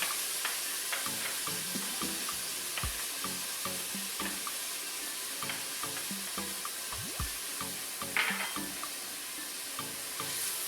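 Four cloves of garlic frying in a pan for a spicy shrimp curry, giving a steady close sizzle with scattered crackles and splattering pops throughout, no talking.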